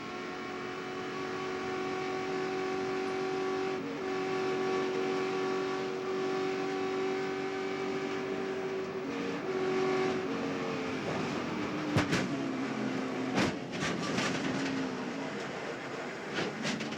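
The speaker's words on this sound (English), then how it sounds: "This is looking back from Bobby Labonte's car." A NASCAR stock car engine heard onboard at Daytona International Speedway during the 1998 Bud Shootout, a steady, sustained high-speed drone with several sharp clanks and bangs toward the end, no voices.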